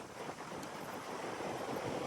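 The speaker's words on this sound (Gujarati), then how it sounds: "આ કુલર મૂક્યું છે ને કુલર નો એટલો અવાજ આવતો હશે" Steady, loud broadband whooshing of an air cooler fan running close by during a home Navchandi havan, a continuous airy roar with no pauses.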